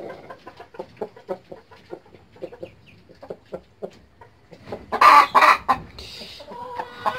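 A hen that has just laid an egg clucks nearby in a steady string of short calls, then breaks into several louder, harsher squawks near the end.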